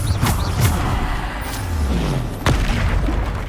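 Bombarda spell explosions in Hogwarts Legacy combat: heavy booming blasts, one early and a sharp one midway, amid a loud rumbling fight mix with faint background sounds.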